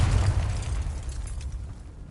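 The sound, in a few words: Confringo fire-blast spell explosion, from video game Hogwarts Legacy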